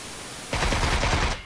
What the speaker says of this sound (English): wildly inaccurate shooting, but I did manage to pop him a couple of times